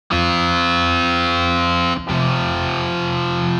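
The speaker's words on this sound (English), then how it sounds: "The Overdrive guitar opens with the Overdrive classic centered setup." A VSL Synchron-ized overdrive electric guitar plays heavy distorted chords in its Overdrive classic centered setup: one loud sustained chord, a brief cut near two seconds, then another thick ringing chord.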